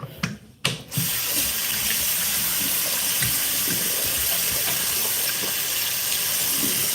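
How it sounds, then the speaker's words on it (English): A bathroom tap gushes steadily as hands are washed, after a brief pause and a couple of small knocks at the start, the loud continuous hiss of running water then filling the rest alone. "Wash my hand."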